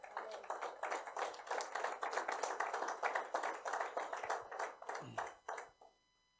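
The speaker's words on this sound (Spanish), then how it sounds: "Dele un fuerte aplauso a Dios por eso." A church congregation clapping hard, a fast, dense run of handclaps lasting several seconds before it tapers off and stops, with brief voices mixed in.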